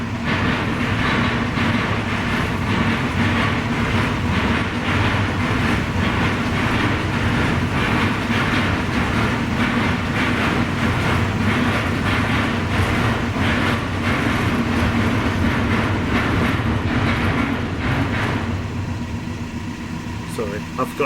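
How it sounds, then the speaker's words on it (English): A train on a railway near the Norfolk Broads rolls past loudly and steadily for about twenty seconds, with rhythmic clickety-clack of wagons over the rails and a rumbling engine, easing slightly near the end; no one speaks over it. "Oh great, now there's a train."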